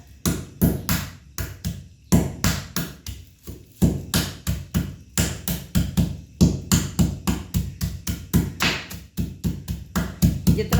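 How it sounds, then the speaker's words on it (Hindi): Hard dried oak galls (majuphal) being pounded to break them before grinding, a rapid series of loud, sharp percussive thuds in an uneven rhythm, close up and continuous throughout. "ये जो माजू होता है जो थोड़ा सा हार्ड होता है, तो मैं इसको कैसे पहले तोड़ूंगी इसके साथ"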